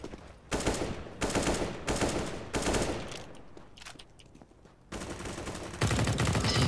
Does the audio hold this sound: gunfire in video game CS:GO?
yes